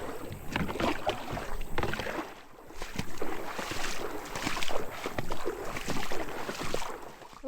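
Kayak paddling upriver on the Buffalo River, with close, irregular paddle splashes and water swishes over breezy wind noise on the microphone, with no voices.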